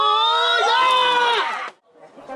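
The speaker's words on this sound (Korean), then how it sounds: "뜻밖의 선물에 환호성이 터집니다" A short, loud burst of cheering and whooping voices breaks out at a prize draw during a discount pork sale event, then cuts off abruptly into faint background chatter.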